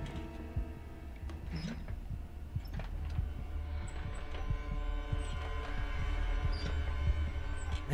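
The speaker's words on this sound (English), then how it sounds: "You can hear her heartbeat through it." A steady, throbbing heartbeat comes through a camcorder in the horror game Resident Evil 7, with regular low thumps over a dull hum and faint creaks, growing slightly stronger as it continues.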